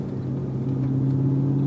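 Audi R8 engine idling cold through a very open exhaust: a steady, deep, close rumble with a strong low hum that holds evenly throughout, no revving.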